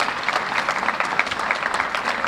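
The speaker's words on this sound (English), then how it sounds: "So please give him and our Board of Education a big round of applause." A roomful of people applauds the board of education at a school event announcing a new head football coach, a thick, continuous wash of clapping with no voices over it.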